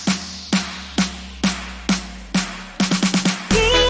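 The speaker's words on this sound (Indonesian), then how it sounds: "long fill-nya itu saya menggunakan dari Kashmir yang bunyinya seperti ini" A Kashmir long fill built up for a dance track: regular loud percussive hits about every half second that quicken into a rapid roll, ending on a sustained bright swell, played alone.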